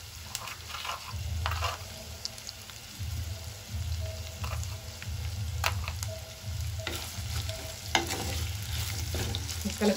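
Vegetables for a vegetable biryani fry in a new clay pot and are stirred repeatedly, giving a continuous close sizzle broken by scraping and clinking strokes over a low background hum.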